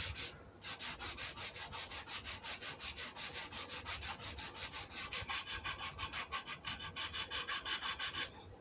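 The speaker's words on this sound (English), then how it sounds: "I don't think it matters how you sand it." Dyed wood of a Les Paul guitar body being sanded by hand, a steady rhythm of quick back-and-forth rubbing strokes, close and continuous for several seconds, with no talking.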